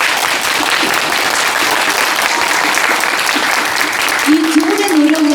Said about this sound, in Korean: 두 분께 박수 보내주세요.